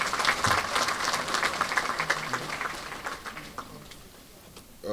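Audience applause for the president at the GCCI 2025 election event: dense, steady clapping from a crowd that gradually thins and fades toward the end, then swells briefly at the close.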